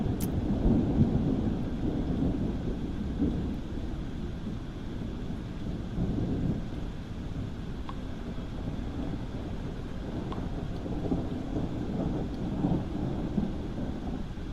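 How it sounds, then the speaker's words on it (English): A loud thunderstorm rumbles on and on with heavy rain and low rolling thunder, a dense continuous roar heard up close without speech. "that thunderstorm is so freaking loud"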